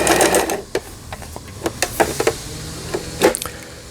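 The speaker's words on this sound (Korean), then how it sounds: "이제 지그재그 바느질이 되겠습니다." A Janome 2041 sewing machine running a zigzag stitch, with short bursts of mechanical whirring and rapid needle clicks that stop and start under light handling noise.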